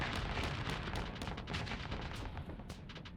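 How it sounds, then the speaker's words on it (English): Reaper torpedoes and weapons fire in the space combat game Starsector crackle as a rapid, irregular series of sharp pops and bursts over a low rumble, fairly quiet and with no talking. "Just fire the Reaper."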